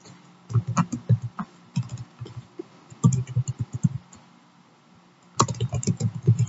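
Student records are entered on a computer keyboard in quick close bursts of key clicks with short pauses between words and fields.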